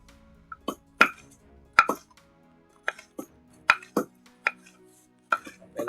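Fresh turmeric being sliced thinly with a knife, about a dozen crisp chopping taps at an uneven rhythm, close and clear against a quiet background.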